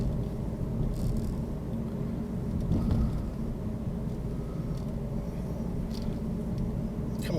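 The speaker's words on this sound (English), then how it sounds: "So in fourth gear, I'm going 30 miles an hour." A car cruises at about 30 mph in fourth gear during a driving lesson, heard from inside the cabin as a steady, loud low rumble of engine and road noise with no talk.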